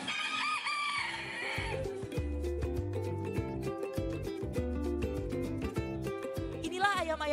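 Bantam chickens crow at a national bantam beauty contest in Yogyakarta, one crow rising over a constant bed of loud tonal music and crowd noise, the bird faint against the busy backdrop.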